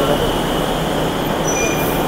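A metro train at a station gives a loud, steady rumble with faint high squealing tones throughout, and no one speaks.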